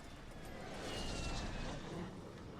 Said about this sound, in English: That's a helicopter, so that's not going to be as useful